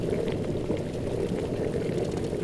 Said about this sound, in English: I start off with some plain old potting mix and some boiling water